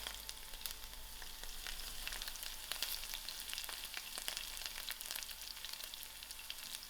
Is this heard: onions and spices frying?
yes